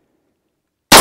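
A 9mm carbine fires a CorBon 125-grain jacketed hollow point round, and after near silence a single very loud, sharp blast erupts abruptly and rings on as the sound cuts off.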